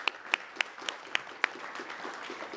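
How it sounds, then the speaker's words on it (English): A launch-night audience applauds for faculty advisors at a literary magazine event, with a few sharp, separate claps standing out over a steady crowd clapping that continues softly throughout. "So maybe a round of applause for the faculty."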